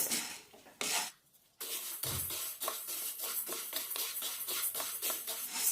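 Dry green gram grains rattle and scrape against a pan as they are roasted over a medium flame and stirred, with repeated rhythmic scraping strokes after a short pause near the start.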